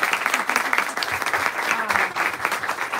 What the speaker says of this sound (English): Another round of applause for Stephen